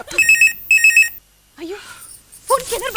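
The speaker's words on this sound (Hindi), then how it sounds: "फोन किधर बजा?" A telephone rings in two short bursts of bright electronic trills in a comic home scene, followed by speech-like voices.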